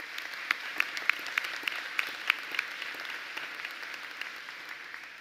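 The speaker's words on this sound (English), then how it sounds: "Please give them a round of applause." A seated audience at a 71st commencement ceremony in Leesburg claps in steady, dense applause, holding an even level for several seconds before gradually thinning out, with no voices over it.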